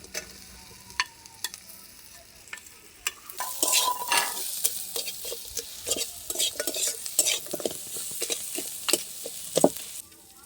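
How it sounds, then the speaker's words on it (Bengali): Fried potatoes and a fish head are stirred into sizzling spice mix in a pan, with bright utensil scrapes and clinks over a steady frying hiss that grows louder partway through. "মশলা দিয়ে এখানে ভাজা ভাজা হয়ে গেছে, এবারে আমি ওর উপরে দিয়ে দেব ভেজে রাখা আলু ও মাছের মাথা"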